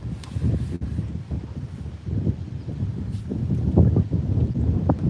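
Strong gusts of wind buffet the microphone outdoors on a cold day of fishing in Ohio, a continuous rough roar that surges and swells with no talking.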